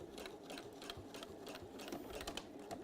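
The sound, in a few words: sewing machine sewing through two layers of fabric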